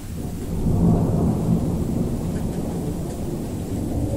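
Thunder from a relentless lightning storm in Oakville, Ontario rolls on as a continuous deep rumble, loud and steady throughout with rain hiss beneath, peaking early and then holding.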